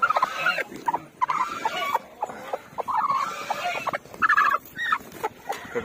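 A backyard hen settling onto her nest clucks in close, uneven bursts with short pauses between, loud against a quiet yard.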